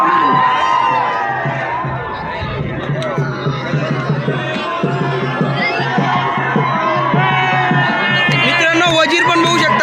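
A large crowd packs a wrestling ground for a Shahapur Kesari wrestling event, a loud, dense babble of many voices with occasional cheers and whoops, while a nearby voice talks over the hubbub.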